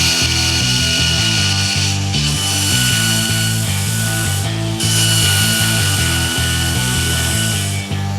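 A grinder takes excess steel off a knife blank, producing a loud, sustained motor roar with rough, pulsing grinding texture and a few brief dips as the piece is lifted and pressed again.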